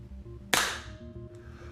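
A single sharp shot from a suppressed Ruger 10/22 rifle fired in a garage, a crisp close crack that decays quickly into a short ringing tail, heard alone without talk.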